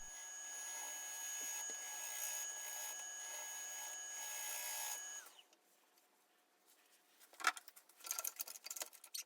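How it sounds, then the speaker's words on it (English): A maple burl is shear scraped on a woodturning lathe, giving a steady loud rasping scrape with a faint motor whine that stops midway, followed by scattered knocks and tool handling. "So I'm going to do a little shear scraping along the sides here."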